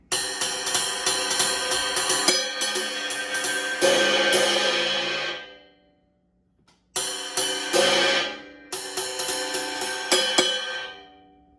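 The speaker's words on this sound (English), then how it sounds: "this is what my ride cymbal sounds like without the mute" An unmuted ride cymbal struck in a steady rapid pattern, bright and washy with a long shimmering ring that swells and decays, pausing briefly before resuming.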